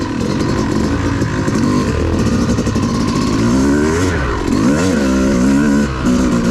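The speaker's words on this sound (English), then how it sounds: "I'm just gonna ride and let you hear the sound of a slow 2-stroke" Slow two-stroke dirt bike engine ridden along a Brown Mountain OHV trail, a steady close buzzing drone that rises and falls gently with the throttle throughout, with no talk.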